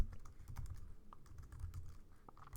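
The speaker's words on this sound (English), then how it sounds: "So I'm going to type in joptionPane" Typing on a computer keyboard while entering Java code, a steady run of light, quick key clicks with irregular rhythm, close and fairly quiet, with no talk over it.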